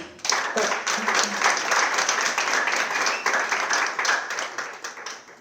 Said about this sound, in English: I just want you guys to give him a hand of applause